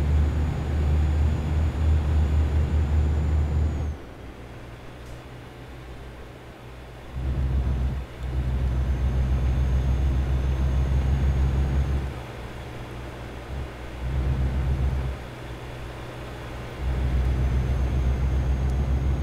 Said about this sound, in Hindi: भाई साहब बाहर से गाड़ी की आवाज़ कैसे आ रही है